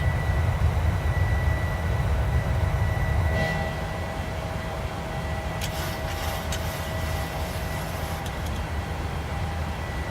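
A simulated airliner climbs out of Memphis, its steady low engine roar filling the scene, with a faint high tone and brief crackles partway through as the drone eases slightly.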